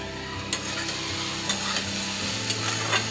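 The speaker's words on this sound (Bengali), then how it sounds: "কচু ভাজা করছি সকালবেলা" Taro pieces fry in a pan on a home stove in the morning, giving a steady sizzle with a few sharp scraping stirs of a spatula at regular intervals. No voices are heard.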